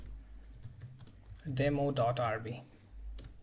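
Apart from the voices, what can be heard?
typing on a computer keyboard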